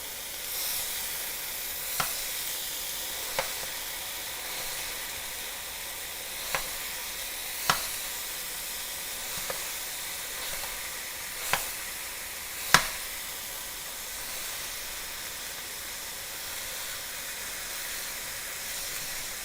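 Ground beef sizzles steadily in a pan with a continuous bright frying hiss, broken now and then by single sharp utensil taps and scrapes spaced several seconds apart.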